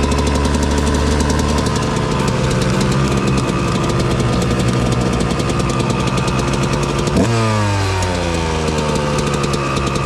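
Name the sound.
RM125/CR125 two-stroke dirt bike engine started and running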